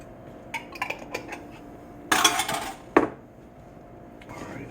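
Salad ingredients are mixed in a bowl with a utensil, producing a few quiet clinks and scrapes followed by a louder rustling stir and a sharp knock against the bowl.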